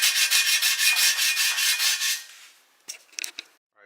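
Wet sanding by hand with 400 grit sandpaper on a chrome wheel lip of an S2000, a quick close rhythm of rasping back-and-forth strokes for about two seconds, then a pause and a few brief scuffs.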